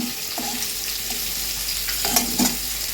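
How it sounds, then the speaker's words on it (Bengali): Cumin seeds hit hot oil for tempering and fry with a steady close sizzle, broken by a few brief scraping stirs near the end, with no voices. "জিরা ফোড়ন দিয়ে দিলাম।"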